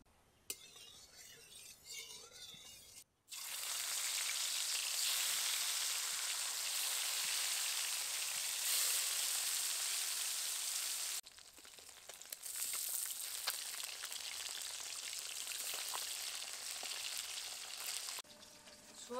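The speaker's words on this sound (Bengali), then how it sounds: "শোল মাছগুলোকে প্রথমে ভেজে নেব। কড়াইতে সর্ষের তেল দেব।" Pieces of shol fish fry in mustard oil in a kadai, a loud, bright, crackling sizzle close by that runs through two long stretches, broken by a short quieter gap and a soft clunk before the frying resumes.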